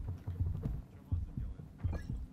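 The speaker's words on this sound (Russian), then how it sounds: "Почему у меня сердцебиение?" A steady, low, muffled heartbeat pulses in the horror video game Spectral Stream, thumping in paired beats roughly every three-quarters of a second beneath faint game ambience.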